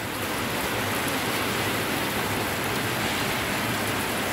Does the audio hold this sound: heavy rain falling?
yes